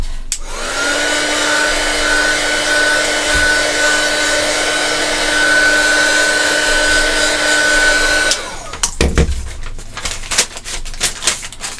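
A heat dryer blows steadily and loudly over mixed media paper for about eight seconds with a constant whine, then cuts off, leaving soft handling noises.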